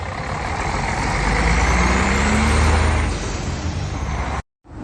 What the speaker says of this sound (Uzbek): Xudo xohlasa Toshkent, Yekaterinburg, Chelyabinsk Istomin avtobusi yo'lga chiqyapti